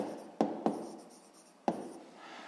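Pen on paper, handwriting close and quiet, with a few sharp taps and soft scratching strokes between them, no voices.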